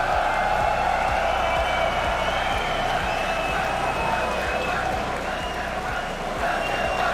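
A packed esports arena crowd at the RLCS Fall Major roars and cheers loudly and continuously, a dense, steady wall of noise from many voices, with sustained clapping mixed through it.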